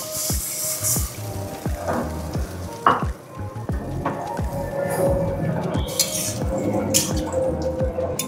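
Vegetable fried rice sizzles in a hot pan as cornflour slurry is added, with steady frying hiss, repeated scraping stir strokes and small clinks of a utensil against the pan, close and busy throughout.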